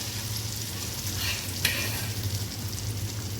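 Mushroom paste frying in melted butter, a soft, even sizzle and hiss close by with a steady low hum beneath and one small tap midway; no one speaks.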